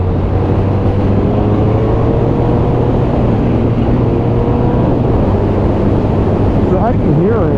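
A car engine revs up steadily past 5,000 rpm, a loud continuous drone with a shifting pitch that climbs and changes character near the end, heard from inside the vehicle.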